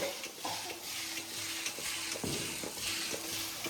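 Cumin, black gram and mustard seeds crackle and sizzle steadily in hot oil, with occasional clinks of stirring against the pan.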